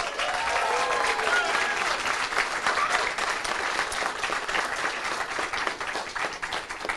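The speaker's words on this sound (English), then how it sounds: "a round of applause for our wonderful actor" An audience in a theatre-style event claps steadily for a performer, a dense, even wash of applause holding at full strength throughout.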